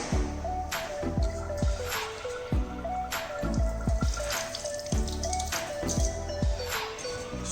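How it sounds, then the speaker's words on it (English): Rice being washed by hand in water, with splashing and sloshing in bursts, close and fairly quiet, with no talking. "We have to wash rice twice."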